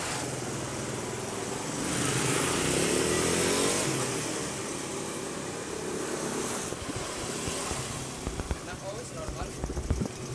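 A Yamaha Vega ZR motorcycle, just repaired after running weak, idles nearby with a steady, rough drone that swells briefly and then settles, while people talk over it.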